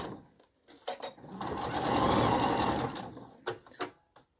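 A sewing machine runs in a steady burst of close stitching along a scrubs neckline facing, with quieter handling clicks before and after.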